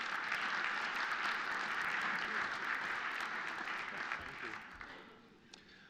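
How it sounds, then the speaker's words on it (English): An audience at a business event in the New York Public Library gives broad, even applause for a speaker walking to the stage, fairly distant and fading out toward the end. "Please give him a nice round of applause as he makes his way up."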